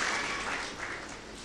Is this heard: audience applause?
yes